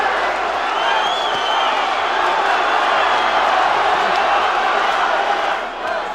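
A boxing crowd roars steadily through a heavyweight bout between Deontay Wilder and Artur Szpilka, a dense, sustained wall of cheering and shouting in a packed arena. The noise eases slightly near the end.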